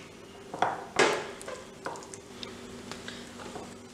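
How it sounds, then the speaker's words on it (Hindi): Potatoes coated in batter are gently mixed in a bowl for honey chilli potatoes, making faint, sparse clinks and soft squishes. "ध्यान से हम मिक्स करेंगे ताकि हमारे आलू जो है वो टूटे ना"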